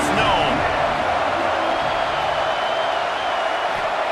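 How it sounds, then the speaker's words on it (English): A roaring indoor stadium crowd at an LSU versus Auburn college football game keeps up a dense, steady wall of cheering and noise, with a commentator talking over it. "This crowd ready to make its presence known."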